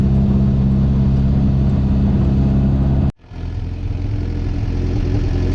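A barn-find Jeep CJ5 engine running loud and close while driving around a driveway, a steady rough drone that drops out abruptly for a moment and then comes back and carries on.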